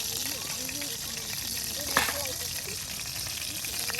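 Potatoes fry in oil with a constant bright sizzle and low bubbling, a soft knock midway, while a voice talks over the cooking.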